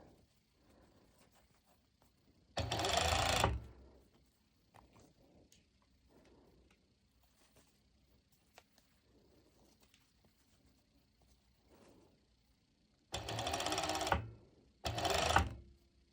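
A sewing machine stitches mesh lycra pole dance shorts in three loud bursts, a short run near the start and two quick runs near the end, with quiet handling of fabric in between.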